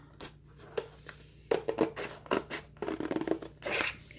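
Scissors snipping through a long strip of paper or craft material for a gift project, a series of close, crisp cuts and rustles coming in irregular bursts, with no voices.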